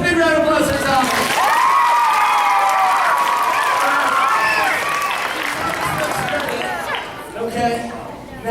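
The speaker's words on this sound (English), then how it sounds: "Thomas, big round of applause for Thomas." Elementary school audience applauding and cheering for a magician's assistant during a mascot's visit, a loud, dense wash of clapping and children's voices that gradually fades.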